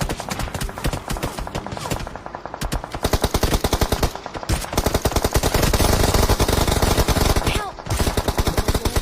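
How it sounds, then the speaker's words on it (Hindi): Gunfire strikes the player in a shooting video game, heard as loud bursts of rapid automatic fire with dense crackling volleys and brief pauses, continuing almost nonstop. "तभी मेरे पे थोड़ी सी गोलियां पड़ती हैं"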